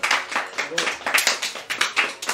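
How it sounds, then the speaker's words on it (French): A handful of people clapping up close in a small crowd, quick uneven claps in short bursts with some voices mixed in. "vous pouvez l'applaudir"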